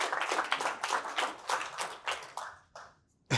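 Brief burst of clapping from a small crowd at an education event recap, sharp and close for a few seconds before thinning out and stopping, with a last lone clap at the end.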